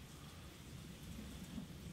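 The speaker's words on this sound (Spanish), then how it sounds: "Oyes que está lloviendo fuera." Steady rain falls outside at night in the video game Persona 4 Golden, a soft, even wash of drops with a faint low rumble underneath and no voices.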